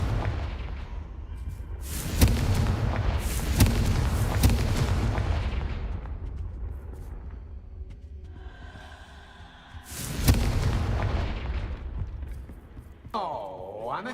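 Booming blasts from Confringo fire spells in the game Hogwarts Legacy, with one heavy explosion near the start and another about two-thirds through, each rumbling and fading. Game sounds continue between the blasts, and a voice is heard toward the end.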